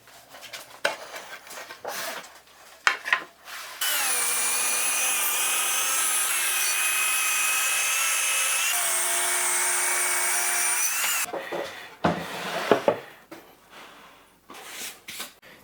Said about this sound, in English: Okay, let's cut the other slab.